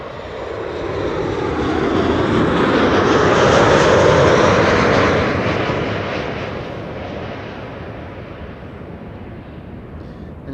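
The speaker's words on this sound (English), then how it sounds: "This is Transavia flight 6602 arriving from Innsbruck" A Transavia plane on arrival from Innsbruck at Amsterdam Schiphol Airport passes close by, a loud broad engine roar swelling to a peak and then fading away over about ten seconds.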